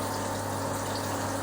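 Steady rushing flow of water pumped through a counterflow wort chiller on a home brew day, a continuous loud gush with a low pump hum underneath and no talking.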